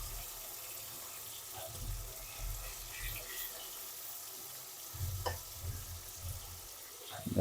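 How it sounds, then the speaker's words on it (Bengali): Large pieces of fish fry in a pan with a soft, continuous sizzle, broken by occasional louder bubbling bursts and stirring sounds; fairly quiet overall. "যাতে মাছটা ভালো মতো ভাজা যায়"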